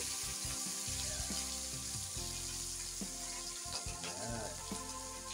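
Fish that was first steamed, now frying in a pan of hot oil, giving a steady close sizzle with crackling pops and some water-like hiss throughout, with no talking.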